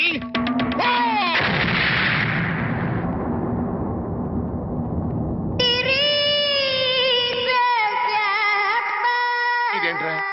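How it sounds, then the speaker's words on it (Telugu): A firecracker bomb blasts inside a cow-dung cone in a Telugu comedy scene, a loud booming burst with crackling debris at the start, followed by a sustained high electronic whine and music-like tones. "ఇదేంట్రా గొబ్బెమ్మ పేలింది?"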